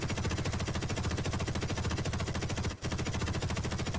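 Rapid, unbroken automatic fire from a gun turret strafing a ship in Space Engineers, a loud, dense stream of shots with one brief gap near the end.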